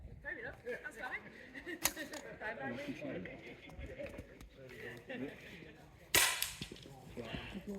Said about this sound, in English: Lovely shot, Elliot.